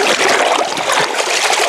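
Water splashes and streams steadily during a baptism by immersion at Portique de Salomon in France, a dense continuous wash of liquid noise without a break.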